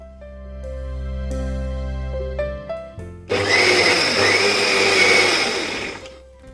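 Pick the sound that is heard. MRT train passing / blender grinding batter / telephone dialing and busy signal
blender grinding batter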